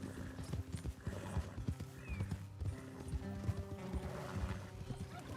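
Horse hooves in Red Dead Redemption 2 clop steadily and close throughout, with a whinny rising among them over a busy layer of game sound.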